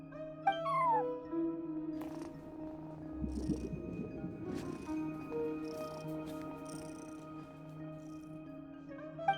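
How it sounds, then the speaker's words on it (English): A cat at a front desk in Genshin Impact meows a few times over a soft musical background with steady tones. "No one except for a cat watching over the front desk."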